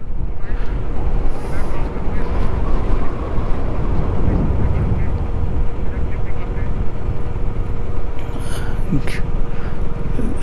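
Motorcycle riding through a small shallow water crossing in Ladakh, with continuous splashing, water rush and wind buffeting the microphone, plus a low engine hum and occasional voices.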